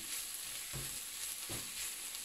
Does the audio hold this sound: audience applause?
no